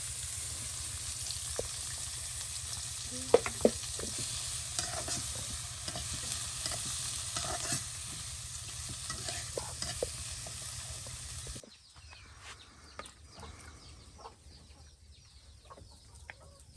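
Onions and garlic frying together in a pan for a village-style dried-fish mash, a steady sizzle with stirring scrapes and clucking chickens nearby; the frying noise cuts out about two-thirds through, leaving quieter background sounds.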